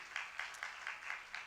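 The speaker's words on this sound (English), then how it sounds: "can you give him a round of applause" Audience applause at a live pediatrics symposium, soft, distant clapping with a steady patter and a few sharper claps standing out, fairly quiet and heard alone.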